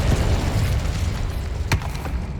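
A Confringo blasting spell goes off in Hogwarts Legacy, one short booming burst that rises out of a steady low rumble of game ambience and music.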